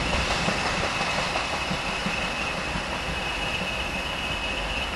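A freight train carrying steel passes near Melton Mowbray with a steady, loud rumble and continuous wheel noise that holds at an even level throughout, with no voices.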